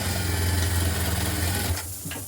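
Sewing machine stitching a blouse, running in a steady fast whirring burst that slows and stops near the end, close and loud with no talk.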